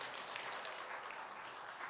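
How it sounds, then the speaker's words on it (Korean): A church congregation at a Korean men's fellowship worship service claps to welcome the pastor, a dense and steady burst of applause filling the whole room with no voices heard. "우리 목사님 나올 때 환영하는 뜻으로 큰 박수로 환영하겠습니다."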